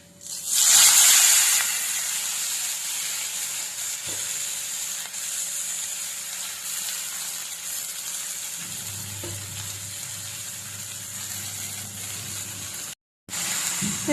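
A loud burst of sizzling as chaya (tree spinach) leaves hit hot oil, settling into a steady hiss of frying with a low hum near the end.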